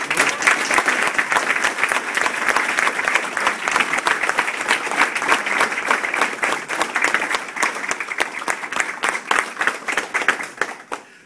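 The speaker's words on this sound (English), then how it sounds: "How about another round of applause?" Sustained audience applause fills an awards ceremony hall, dense steady clapping from a large crowd running loud and even before tapering off at the very end.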